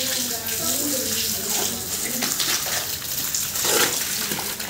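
Water running and splashing into a container at home, a steady close gurgling stream with bubbling throughout, no talking over it.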